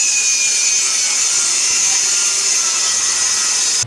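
A power saw whines steadily and loudly through wooden cleats, cutting bevels for a small cruising dinghy's transom in one continuous close cut with no talking.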